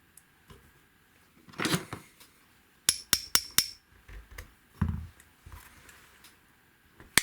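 A series of sharp metallic taps as a hammer drives a pin into an airsoft gun, four quick strikes in a row followed by a few lighter knocks, close by with no talking.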